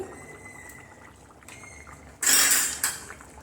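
Potato koftas and garam masala go into a curry in a pan: a quiet stretch, then a sudden short metallic clatter of spoon against pan, with a second smaller clink just after.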